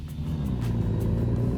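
International Transtar truck engine in American Truck Simulator, a steady loud low rumble with mid-range drone holding through a gear change, without speech.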